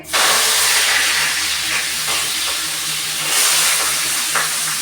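Onion and fenugreek leaves drop into a hot oil tempering and give off a loud, constant hissing sizzle. It starts suddenly and holds steady throughout, with no talking.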